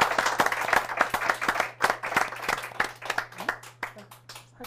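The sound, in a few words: audience applause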